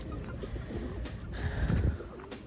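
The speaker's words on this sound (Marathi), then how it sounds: "आय डोंट नो हे सगळे कबूतर माझ्याकडे का आले." Pigeons coo in a garden, a soft, low, repeated murmur that swells slightly near the middle, with a steady outdoor background and no talking.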